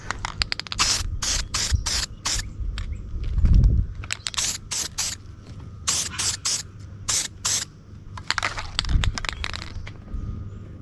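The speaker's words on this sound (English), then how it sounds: "I'm spraying over the welds with zinc spray just to protect them so they don't rust" Repeated short bursts of zinc aerosol spray hissing over welds on a Mercedes-Benz Unimog camper box, a steady on-off rhythm close by, with some low clunks and handling noise underneath.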